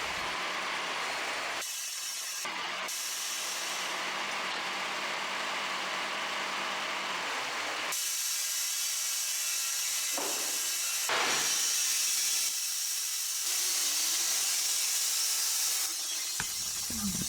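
A sawmill slices a log into slabs outdoors, with a loud, steady cutting roar that drops out briefly between passes and then resumes.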